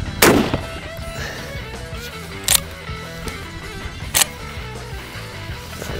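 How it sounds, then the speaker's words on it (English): Three shotgun blasts of number 4 birdshot fired into sandbag fortifications outdoors: a loud sharp report at the start, then two fainter shots spaced a couple of seconds apart over low background noise. "We're gonna try some number 4 birdshot."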